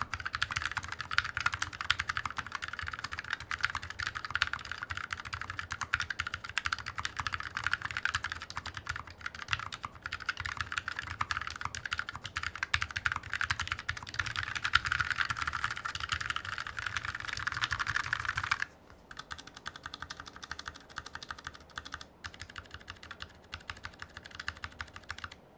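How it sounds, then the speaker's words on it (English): Steady, close typing on a Fnatic Streak65 LP low-profile keyboard, rapid clacky keystrokes continuing alone without talk, with a brief change in tone near the end. "the sound test, which we are gonna drop right now"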